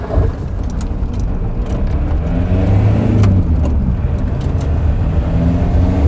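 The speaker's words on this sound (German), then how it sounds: "ich gebe jetzt gleich mal Gas" A VW T3 bus engine, just back from a turbo repair, runs loud and close with a steady throttled drone that builds in the middle as it is revved, with light metallic rattles on top.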